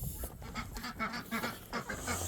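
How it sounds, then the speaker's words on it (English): Penned farmyard ducks quack repeatedly in short, nasal bursts close by, with geese honking among them in a lively, overlapping chorus. "Here the ducks in here trying to break out."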